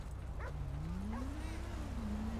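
A dog barks and whimpers in the video game GTA 5, giving a couple of short yips against a steady background hum while someone talks over it.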